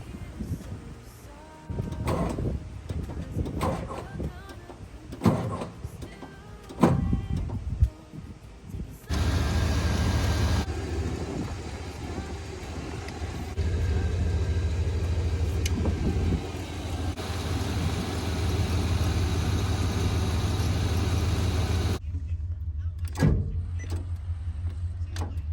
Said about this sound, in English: Doesn't want to go. Hopefully it's not the starter. Because the bus won't start.